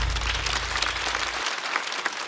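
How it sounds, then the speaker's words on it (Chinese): An audience claps steadily, a dense wash of applause that carries on throughout without letting up. "再次掌声送给大刀"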